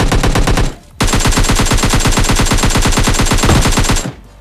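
Rapid automatic gunfire in the mobile battle royale game PUBG Mobile Lite: a short burst, a brief gap, then a long, loud, evenly rattling stream of shots lasting about three seconds before stopping.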